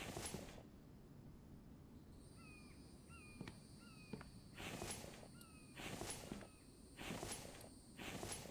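Footsteps fall in a steady walking rhythm in The Infected, a video game, moving through an apartment with crows cawing and insects chirring around them at low volume.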